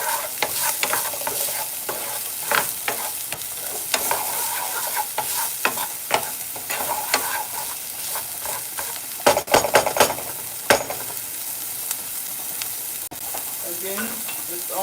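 Vegetables sizzle and fry steadily in a pot for spaghetti sauce while a spoon stirs them, with scraping and clinks of utensil against the pot, close and continuous throughout.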